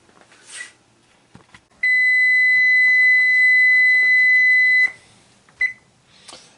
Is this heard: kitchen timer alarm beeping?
yes